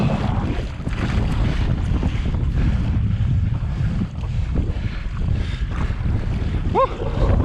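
Strong wind while paddle boarding on choppy tidal water around the Strood at Mersea Island, a loud continuous rumble of wind buffeting the microphone with water sloshing underneath, no talk.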